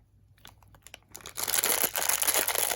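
A blue plastic blind-bag packet holding Stitch figures being opened: a few soft crinkles, then a loud continuous rustling and tearing of plastic close up, with no voices.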